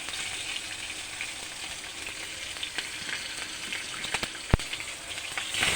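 Green chilies, slit lengthwise, frying in hot oil with mustard seeds and five-spice tempering, giving a steady close sizzle with a few sharp pops and crackles.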